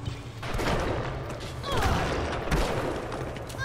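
Bursts of gunfire in the video game Bioshock crack and boom in quick succession, loud and close, with a few heavy thumps mixed in and a voice speaking over part of the action.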